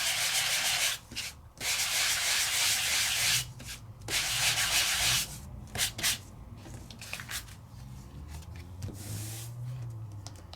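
A paper die cut is sanded by hand, producing loud, close rasping scrubs in bursts of strokes separated by short pauses, with no talking.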